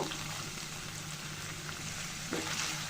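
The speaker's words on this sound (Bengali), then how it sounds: "পেঁয়াজটা আমি ভালো করে ভেজে নেব" Onion paste fries in a pan with an even, moderately faint hiss and crackle that holds steady throughout, with a slight scrape near the end.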